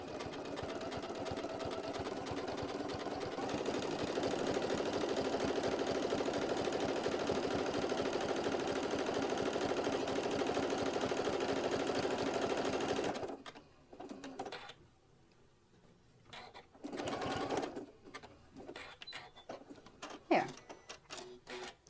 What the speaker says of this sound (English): let it go ahead and stitch down this edge right here